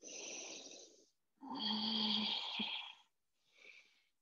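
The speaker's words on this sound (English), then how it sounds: "We have about 3 deep breaths to reset here." Slow, deep breaths in yoga child's pose: a long airy exhale, a fuller drawn-out breath with a throaty rasp, then a shorter softer one, close and quiet with silence between.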